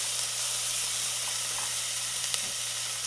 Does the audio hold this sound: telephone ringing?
no